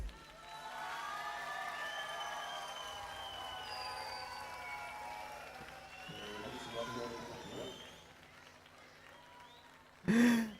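At an open-air festival in Cambados, Pontevedra, a large crowd applauds and cheers for the Orquesta Costa Dorada. Sustained shouts and whoops ride over a dense wash of clapping heard from a distance, ending in a sudden louder burst.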